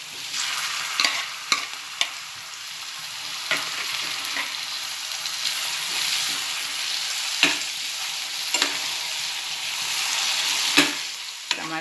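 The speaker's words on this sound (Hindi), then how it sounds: "टमाटर को प्याज के साथ नरम करेंगे, नरम होने तक तलूँगी।" Chopped tomatoes and onions fried together in a pan for egg methi bhaji, with a continuous hissing sizzle and intermittent sharp scrapes and clacks of a spoon stirring them.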